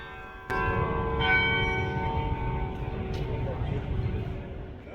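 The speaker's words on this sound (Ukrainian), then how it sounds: "Достойну конкуренцію органу складає карийон 17 століття." Seventeenth-century carillon bells in Amsterdam ring out with a sharp strike, their tones sustaining and overlapping into a resonant wash, with a murmur of background noise beneath.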